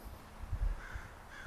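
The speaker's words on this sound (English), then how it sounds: "There's a crow overhead." A crow caws somewhere overhead, two or three harsh calls in a short burst, fairly faint against an outdoor background.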